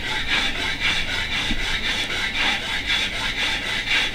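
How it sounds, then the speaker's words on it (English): Soap is rubbed back and forth into the peg box grooves of a violin during setup, a close, even rasping scrape repeating in a steady rhythm of about two strokes per second. "So our next stage is to put a little soap in the grooves"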